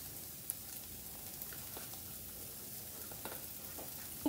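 Sliced mushrooms sizzle and fry steadily in a pan, with a continuous hiss and occasional stirring clicks from a utensil, heard alone at close range.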